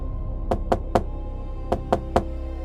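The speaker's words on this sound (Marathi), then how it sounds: "रात्री बरोबर 12 वाजता वाड्याचं मुख्य दार जोरात ठोठावलं गेलं." Loud knocks on the wooden main door of an old village mansion at midnight: six sharp, close raps in two quick sets of three, with a short pause between the sets.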